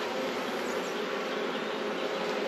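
A dense, steady buzz of many honey bees swarming close around a backyard hive, continuous and fairly loud throughout with no pauses.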